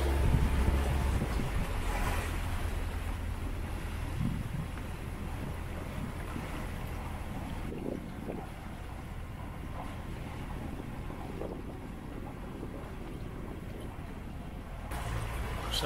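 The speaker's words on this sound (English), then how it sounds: "we've had to motor it all the way because there's been no wind" A sailboat motoring through a choppy sea off the Greek islands of Paros, Naxos and Delos. A steady engine drone mixes with rushing water, slapping waves and wind buffeting the microphone, with no speech.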